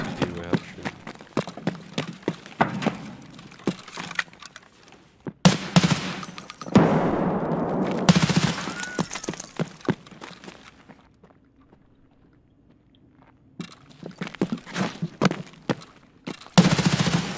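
An SVD sniper rifle fires in a video game, with sharp single gunshots in bursts amid footsteps and other game noise, while a voice talks over parts of it.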